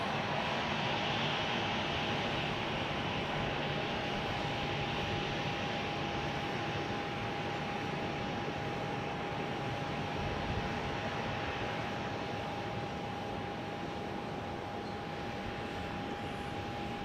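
A jet airliner taxis toward the gates at Dallas Love Field, a steady broad engine roar with a thin sustained whine, constant in loudness and heard from a middle distance with no talk.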